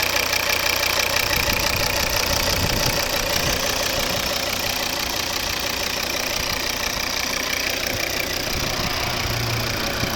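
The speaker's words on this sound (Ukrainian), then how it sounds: "Ось робота двигуна знаменитого, п'ятициліндрового." The five-cylinder 2.0 D3 diesel engine of a 2011 Volvo V50 automatic idles steadily and close by, with a continuous knocking rumble and no voices over it.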